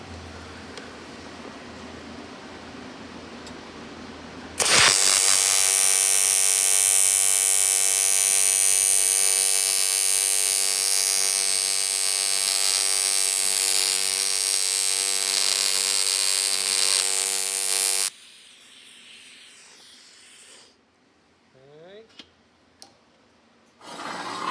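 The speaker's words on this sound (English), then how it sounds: "Go ahead and get her welded in." Welding on a BMW turbo oil return line for an M3 or 340i: a steady, loud, bright buzzing hiss holds for about thirteen seconds, then cuts off to quiet shop ambience with a few faint clicks.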